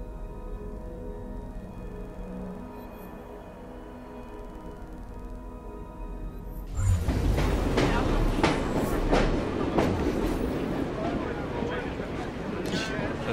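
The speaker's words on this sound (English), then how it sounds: "So I can just hop around on my own little train." Train rolling in Assassin's Creed Syndicate: a steady low rumble for the first half, then a louder burst of rattling, clattering rail noise that continues to the end, with a voice talking over it.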